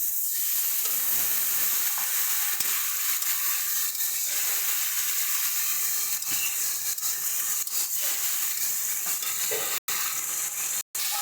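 A little water is added to ground spices frying in oil in a pan for a fish curry with mustard paste, setting off a constant loud hissing sizzle that goes on for several seconds with no talk.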